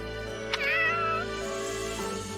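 A small cat in Fire Emblem Warriors: Three Hopes gives a single short, rising meow over a steady, low game music bed.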